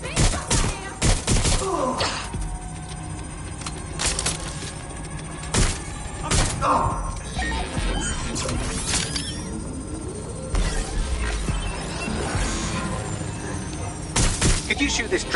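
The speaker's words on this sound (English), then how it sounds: "Gunfire!" Gunfire in the video game Watch Dogs Legion, repeated bursts of shots and sharp thumps scattered across the stretch over a busy layer of game sound, with talk running underneath.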